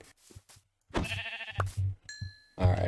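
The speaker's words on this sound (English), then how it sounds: "Alright, only one more sheep." Sheep in Minecraft Bedrock bleat in several short, close, wavering calls separated by brief pauses, with no talking.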